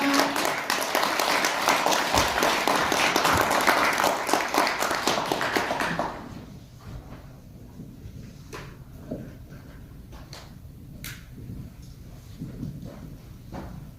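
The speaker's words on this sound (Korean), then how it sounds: "큰 박수로 맞아주시기 바랍니다" Audience applause at a Korean awards ceremony for an essay contest, welcoming the chief judge to the stage; dense clapping for about six seconds, then fading to scattered claps and room noise.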